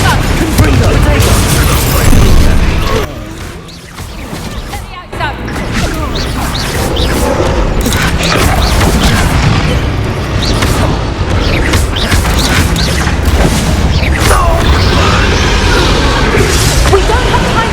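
Confringo fire spells exploding during a Hogwarts Legacy battle, a dense run of booms and crashes layered with spell effects and combat noise, loud throughout with a brief lull near the start.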